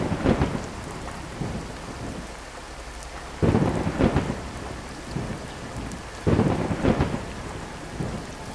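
A storm sound effect of steady heavy rain and blustering wind, broken by three loud rolling thunderclaps spaced a few seconds apart.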